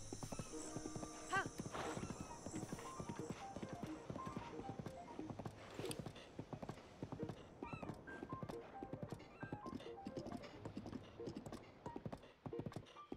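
In The Legend of Zelda: Breath of the Wild, a horse's hooves clip-clop in a steady rhythm, with a neigh breaking in partway, all fairly quiet against game background sound.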